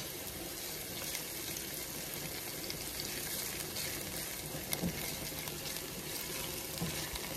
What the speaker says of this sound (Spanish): Vamos a dejarla ahí que se fría.